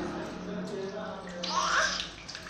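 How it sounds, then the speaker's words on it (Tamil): Water splashes and pours steadily over a newborn baby during a bath, a continuous wet rushing that swells in the middle, with a few faint voices in the room. "தோல் பட்டையிலையும் நல்லா தண்ணி ஊற்றணும்."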